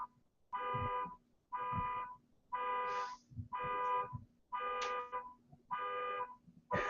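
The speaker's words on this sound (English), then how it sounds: "Fucking car beeping. Beep, beep, beep, beep." A car's harmonic electronic beep repeats in a steady rhythm, about seven long tones with short gaps, moderately loud and alone.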